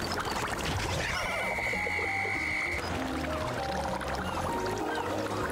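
A big frog croaks in Pikmin 4, a loud wet croak with a sustained tonal cry over constant bubbling water and busy game ambience.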